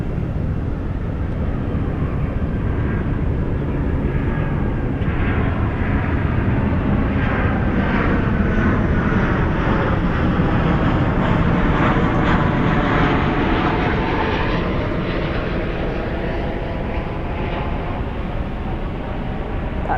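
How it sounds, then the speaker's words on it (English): A Boeing 737-800 touches down at night on runway 18 right at Dallas/Fort Worth airport with spoilers up and thrust reversers deployed, producing a loud, steady jet roar that fills the whole stretch with no talking. "Spoilers up, reversers out on that 737-800. Touching down there on 18 right."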